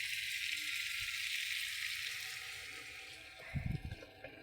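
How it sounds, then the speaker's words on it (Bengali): Water poured into a pan of meat cooking with green chillies, a steady hissing sizzle that softens and then breaks into a few close gurgling splashes near the end; quiet overall, no talking. "এবার আমি জল দিয়ে দেবো।"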